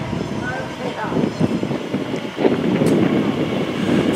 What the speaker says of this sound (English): And there's one that's just leaving